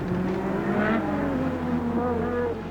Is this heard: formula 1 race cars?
yes